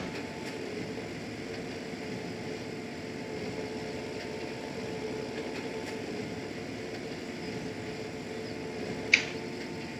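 A tractor engine in Farming Simulator 2017 drones steadily at a low, even level for the whole stretch, a faint continuous hum with one brief click near the end and no voices.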